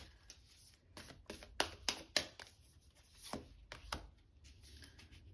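A deck of tarot cards shuffled by hand, a series of sharp riffling bursts and soft rubbing close by, quiet and irregular, no talking.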